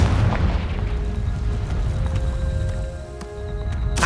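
Confringo fire spell exploding in the video game Hogwarts Legacy: a loud, sustained low boom and rumble with a few sharp crackling bursts scattered through it, fairly close and with no voices over it.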